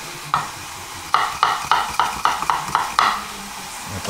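Aubergines cooking in olive oil in a saucepan: a soft sizzle runs throughout while a spoon scrapes and stirs in about seven quick, regular strokes, close and moderately loud, with no talking.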